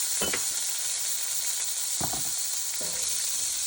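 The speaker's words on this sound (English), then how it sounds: "So we're gonna fry our rice for a couple of minutes." Rice sizzles and fries steadily in a hot pan for arroz con pollo, a constant hiss with a few brief stirring scrapes near the start and middle, up close with no talking.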